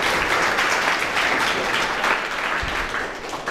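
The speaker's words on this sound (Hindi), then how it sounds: "तालियां बजती रहनी चाहिए, तालियों में कोई कमी नहीं होनी चाहिए" Audience applause at a ceremony, a dense, steady crowd clapping that carries on without pause for several seconds at moderate loudness.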